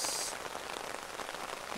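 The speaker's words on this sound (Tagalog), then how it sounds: "Wow! It's rainy day today." Rain falls steadily in a garden, a dense, even hiss of drops hitting surfaces nearby, continuous and without voices.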